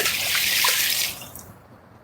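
A big fish released back into the Anacostia River makes a brief burst of water splashing and dripping that fades over a couple of seconds, ending with a sharp close knock.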